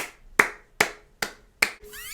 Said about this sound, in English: I'm going to clap again because they deserve it after that performance.